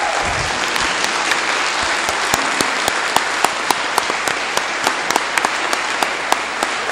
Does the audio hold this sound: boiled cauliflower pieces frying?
no